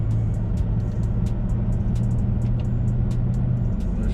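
A 2017 Toyota Tacoma pulls away in second gear, its engine a steady, loud low drone with a sustained hum, heard from inside the cab with faint ticking above it and no talk.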